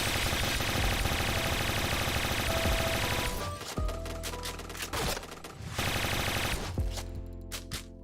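Rapid automatic gunfire from a video game shooter, loud bursts of rattling shots with sharp cracks that stop and restart over several seconds, no talking.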